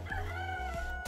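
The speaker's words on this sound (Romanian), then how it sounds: "Cocoșul vecina." A neighbouring rooster crows outdoors in a long, sustained call with clear harmonic tones, heard at moderate distance against a low steady rumble.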